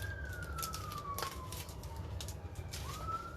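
Far in the background, an emergency vehicle siren wails in a long falling sweep before starting to rise again, faint beneath the ambient noise, while a bird coos nearby.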